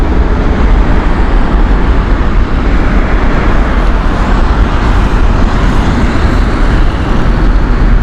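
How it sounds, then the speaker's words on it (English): An Airbus A380 rolls on runway 27 left at Heathrow Airport, a loud, continuous, broadband jet roar that holds steady and close throughout. "Beautiful Airbus A380 here."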